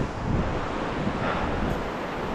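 The Lehigh River flows past as a steady broadband rush of water, close and continuous, mixed with gusting wind noise on the microphone and no talking.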